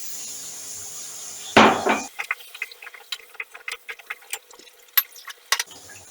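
Water pours into a pot of chicken korma in a brief, loud splash lasting about half a second, followed by a run of light clinks and taps from utensils against the pot.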